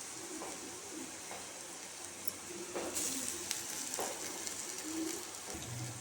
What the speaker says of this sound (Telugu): అల్లంలో పచ్చివాసన పోయేంత వరకు వేయించుకుందాం.